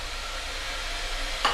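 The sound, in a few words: onion frying in oil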